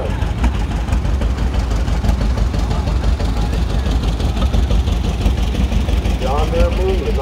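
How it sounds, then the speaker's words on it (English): A 1970 Cub Cadet 147 garden tractor running in a farm club tractor parade, its engine chugging steadily beneath a loud public-address announcer, with crowd noise around. "A 147 Cub Cadet, 1970, owned by Mike Williams and driven by Chase,"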